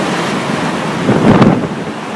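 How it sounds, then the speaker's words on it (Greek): Strong gusting wind roars across a microphone at an old harbour during a storm, with waves surging and washing beneath it in a steady loud rush that swells briefly near the end; no voices. "Στο έλεος των διελωδών ανέμων και του κυματισμού βρέθηκε για μια ακόμη φορά και το παλιό λιμάνι."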